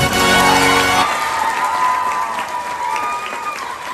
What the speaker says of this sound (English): These lovely ladies, let them give a round of applause.